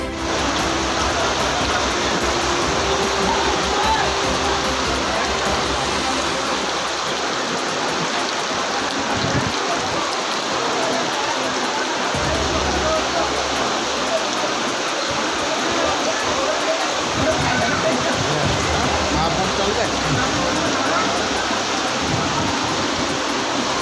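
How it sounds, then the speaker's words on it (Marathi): Heavy rain pours down steadily in Khamgaon, Maharashtra, a dense continuous wash of noise with low rumbling underneath, loud and unbroken throughout. "खामगाव तालुक्यात शनिवारी सकाळपासूनच जोरदार पाऊस सुरू होता"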